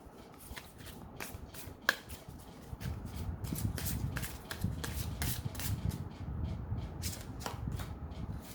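Tarot cards shuffled and drawn from a deck, a steady run of crisp riffling flicks and soft slaps close by, with one sharper snap, no talking.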